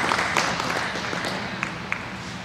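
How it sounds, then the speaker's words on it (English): A crowd at a dairy cattle show claps for junior Jersey heifer exhibitors, sustained applause with a few sharper individual claps standing out above the steady patter. "give them a great hand of applause for all the participants in the junior jersey classes"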